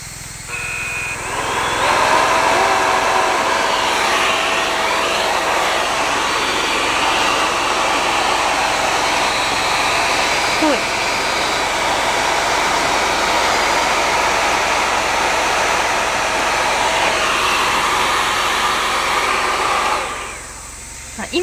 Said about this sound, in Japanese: ドライヤーも、温風でマックスでやってみようと思います。